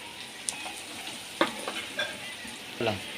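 Curry leaves hit hot oil with fried onion and tomato for home-style egg rice, giving a steady close sizzle broken by a few sharp spatters and stirring scrapes, with no talking.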